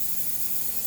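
A spray bottle mists a client's hair, a single close, steady hiss lasting the whole second.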